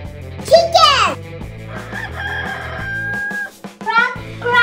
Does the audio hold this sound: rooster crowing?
yes